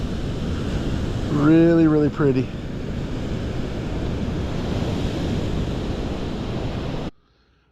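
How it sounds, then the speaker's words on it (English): Pacific Ocean surf washing onto a beach, a steady broadband roar of waves and wind that fills the whole clip, with a person speaking briefly over it near the start. "Named after that big beautiful ocean right there."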